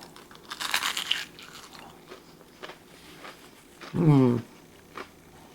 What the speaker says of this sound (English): So listen for the crunch.